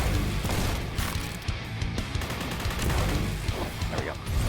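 Repeated rifle shots from a sniper-like weapon in the shooter game Forgive Me Father, popping in bursts over a dense, continuous background of game noise and low rumble, with some talking mixed in.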